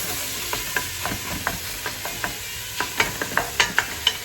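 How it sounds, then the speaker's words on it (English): Supermarket beef mince frying in a pan for spaghetti bolognese, with a steady sizzle and a run of regular stirring scrapes that grow louder and quicker toward the end. "Throw your mince in. And you can stir that through."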